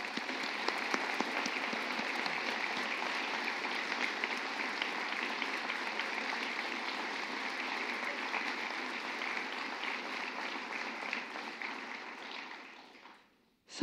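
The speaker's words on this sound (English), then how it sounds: "let's give our new president a warm round of applause" A large audience applauds the new university president at an installation ceremony, a dense, steady wash of clapping that holds for over twelve seconds before fading out.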